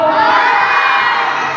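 A crowd of children shouts and cheers loudly and continuously at an outdoor community feeding program, a dense burst of young voices.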